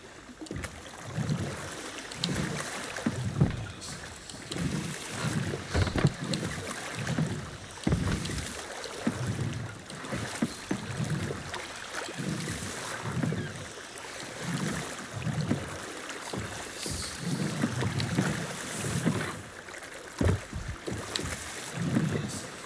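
Rhythmic oar strokes of a small dinghy being rowed across open water in the pirate game Sea of Thieves, steady splashing pulses repeating every second or so under a constant windy wash, with no talking.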